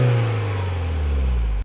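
A stock R56 Mini Cooper S engine revs steadily at close range with a smooth, moderate drone. It holds a fairly even pitch for about a second and a half, then cuts off abruptly.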